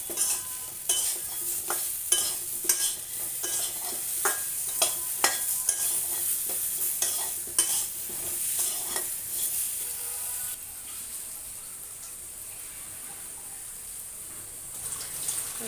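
Repeated scraping strokes of a spoon stirring in a pan over a bright sizzle, the stirring stopping partway while the frying hiss continues.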